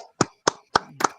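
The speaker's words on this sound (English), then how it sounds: "Give him a round of applause, y'all" Four separate, sharp hand claps in a steady rhythm, close and fairly loud with brief silences between them, offered as a round of applause for a man who has just cooked chicken and tortillas.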